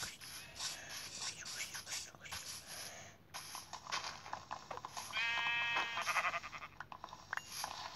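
Sheep bleat in Minecraft, a wavering cry rising over a busy game soundscape with whispery voices and rustling.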